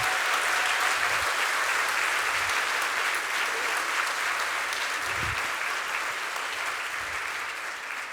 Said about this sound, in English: may I get a round of applause for the very courageous Ms.